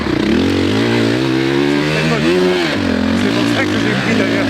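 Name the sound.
450 dirt bike motorcycle riding in sand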